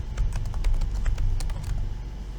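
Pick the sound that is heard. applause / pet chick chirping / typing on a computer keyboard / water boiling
typing on a computer keyboard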